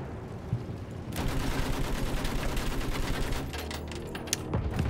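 Dense gunfire from the World War I shooter Battlefield 1, a sustained rattling barrage that starts abruptly after a second and continues loud and continuous to the end, with scattered sharper shots on top.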